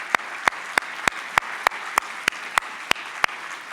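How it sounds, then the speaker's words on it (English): At an annual conference keynote, a crowd applauds in a steady wash while one nearby pair of hands claps out sharp, evenly spaced beats about three times a second. "let's just give a huge round of applause."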